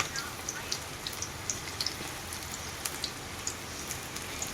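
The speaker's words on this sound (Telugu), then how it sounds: "ఈ వానలో మేము ఎంజాయ్ చేస్తూ తింటున్నాం" Rain falling in cool weather outdoors, a soft steady patter with scattered distinct drops tapping on surfaces, fairly faint and continuous.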